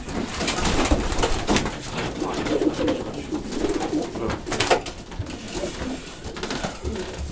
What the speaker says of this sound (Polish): Ten tutaj ciemny grochowy, to jest też dwuletni gołąb